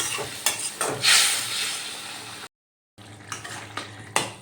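Fried fish pieces, four of them, added to a spicy masala gravy in a pan, with close sizzling, bubbling and the clink of a utensil against the pan, briefly cut to silence midway before resuming.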